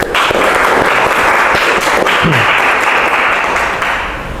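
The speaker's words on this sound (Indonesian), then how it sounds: "Kita kasih aplaus untuk kelompok 3." Classroom applause for a presenting group: loud, dense clapping from many hands held steady for about four seconds, then easing slightly at the end.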